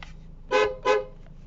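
A newly installed loud aftermarket horn on a Suzuki Ertiga sounds two quick, blaring honks in close succession, near and loud.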